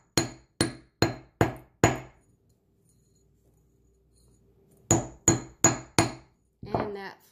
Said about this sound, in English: give it a few taps with the flat end of your hammer